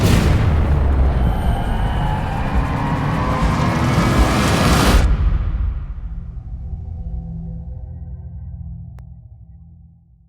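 Handheld Torch Party firework fountains from T-Sky Fireworks burn with a dense, loud hissing crackle for about five seconds, then cut out, leaving a low lingering rumble that fades away.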